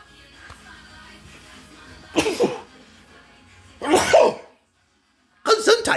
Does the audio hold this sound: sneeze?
yes